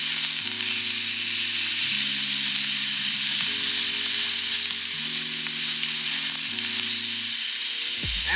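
Adobo chicken thighs fry in a pan over high heat, giving a steady, close sizzle that runs throughout alongside a sustained tonal hum in the background.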